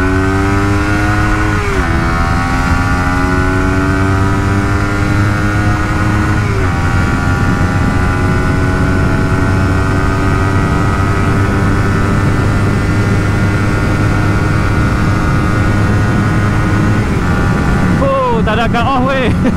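A Suzuki GSX-R150 motorcycle accelerates hard on a test ride, its engine note climbing through several gears with distinct shifts, loud and close with steady wind rush throughout.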